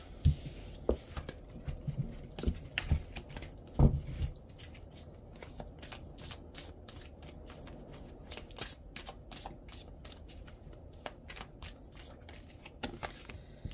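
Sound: shuffling tarot cards

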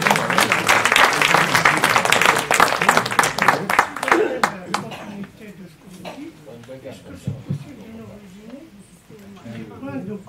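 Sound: audience applause

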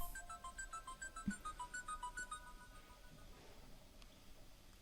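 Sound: mobile phone ringtone ringing

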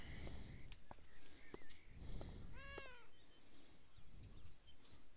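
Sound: cat meowing in video game Beyond Eyes

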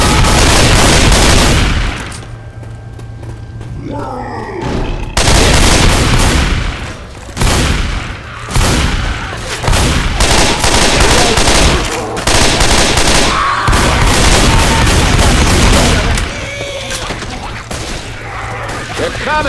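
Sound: gunfire in the video game Left 4 Dead 2

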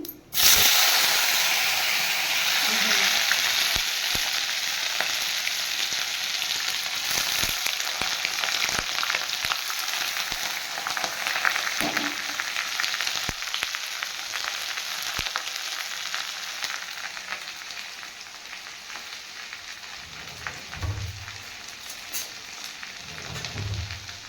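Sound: onions frying in oil with cumin and bay leaf

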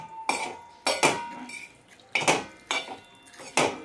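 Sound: stirring okra fry with tomato juice and spices in a pan

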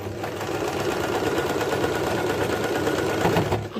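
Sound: sewing machine stitching a double seam on a frill shrug

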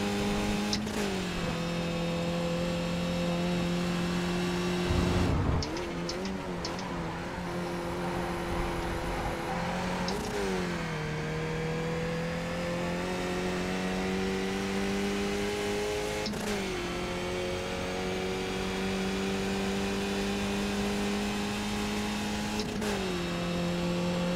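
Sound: race car lapping Silverstone circuit

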